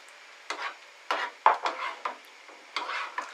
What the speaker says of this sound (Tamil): இப்போ நான் பால் சேர்த்துட்டேன்.